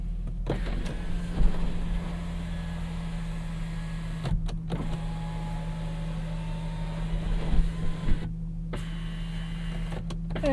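In a 2020 Kia Stinger GT1 AWD, the single-panel sunroof motor hums steadily and fairly faintly for several seconds. Cabin drone sits underneath, with a couple of clicks and thumps as it starts and stops.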